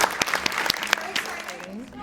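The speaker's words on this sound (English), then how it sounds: "give her a big hand, round of applause for that" Brief applause from a conference audience, sparse individual claps close to the microphone with a voice talking over them.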